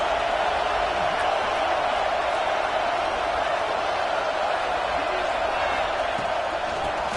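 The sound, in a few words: stadium crowd noise in college football video game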